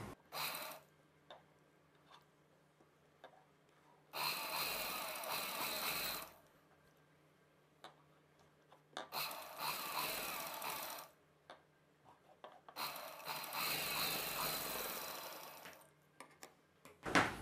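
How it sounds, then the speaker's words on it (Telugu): A sewing machine stitches a folded sleeve edge, with three long runs of rapid mechanical whirring separated by pauses filled with faint clicks and fabric handling. "ఇప్పుడు నేనైతే ఈ అంచుని ఫోల్డ్ చేసి కుట్టు వేసేస్తున్నాను"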